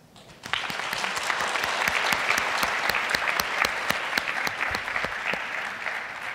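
Sustained applause from an audience honoring students at a STEM education event, with dense clapping that starts abruptly and holds steady at full volume, sharp individual claps standing out near the microphone.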